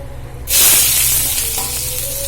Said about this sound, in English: I will be putting the onions.